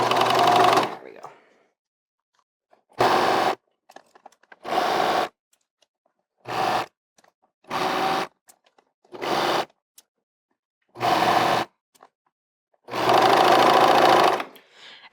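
A serger overlocker stitches a t-shirt neckband in repeated loud bursts of fast mechanical whirring, several short runs and two longer ones separated by silent pauses.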